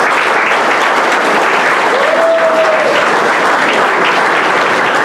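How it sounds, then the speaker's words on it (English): Loud, continuous applause from a crowd at a county GOP tomato sandwich fiesta, dense clapping at a steady level from start to finish, with a brief voice rising above it midway. "Round of applause."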